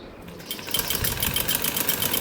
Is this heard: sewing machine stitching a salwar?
yes